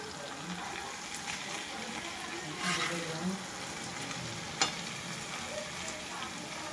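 Kaleti fish frying in a covered pan, a steady close oil sizzle that runs throughout with a few faint clinks and no talk.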